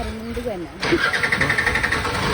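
An auto rickshaw engine starts up nearby right after a brief voice, then settles into a rhythmic, puttering idle that runs loud and steady to the end.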